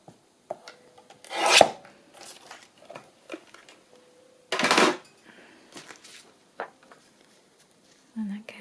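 Card for a wedding journal envelope is trimmed with two short, sharp cutting rasps close up. Quiet handling rustles and a person speaking softly fill the gaps between them.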